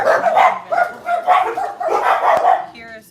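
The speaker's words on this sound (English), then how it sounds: "One of the outside dogs started" Several dogs kept outdoors bark in repeated bursts at moderate distance, yips and bow-wows overlapping through the clip, with a brief tonal sound near the end.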